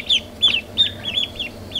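Chickens, including Polish hens, give a quick run of clucks and soft chirpy calls close by on a farm, about six short repeated notes over a low steady background hum.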